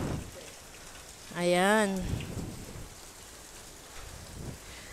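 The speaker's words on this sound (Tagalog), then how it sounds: "Medyo humupa na yung ulan." Steady rain keeps falling after a hailstorm in a Brisbane backyard, a soft, even patter under a single short spoken word and a brief, tonal, rising and falling call.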